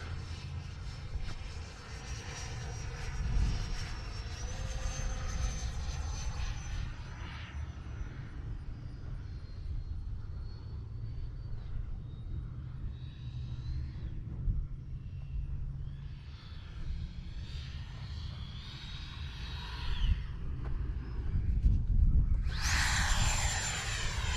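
An FMS Integral 80mm electric ducted-fan RC jet flies overhead with a continuous whooshing fan whine that rises and falls as it passes and maneuvers, with wind buffeting throughout and a louder surge near the end.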